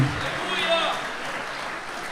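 A church congregation applauds during a Christmas worship service, a steady wash of clapping that carries on beneath a voice speaking over it.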